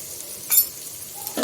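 A spoon stirs turmeric into vegetables sautéing in a pan, giving a brief scrape and clink over a faint sizzle.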